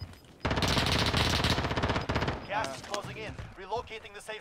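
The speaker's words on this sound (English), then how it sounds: "He's sniping. They're sniping at me" Rapid gunfire in Call of Duty: Warzone, a dense loud burst of repeated shots lasting over a second, then scattered fainter shots as players talk over the action.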